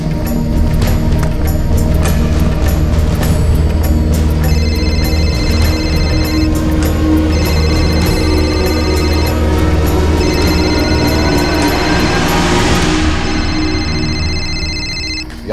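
Telephone ringing in repeated bursts with pauses between them, steady and fairly loud over a constant low background hum, with no one speaking.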